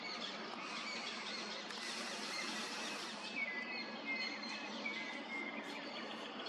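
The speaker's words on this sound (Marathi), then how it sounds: "खूप प्रकारच्या वेगवेगळ्या अशा पक्ष्यांचा आवाज येत आहेत" Several kinds of birds call and chirp in Pench forest, a faint, dense layer of overlapping high tweets and whistles with a soft steady background, no speech.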